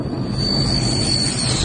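A large military transport plane lands close overhead, its engines giving a loud, sustained roar with a high whine riding on top, steady through the whole moment.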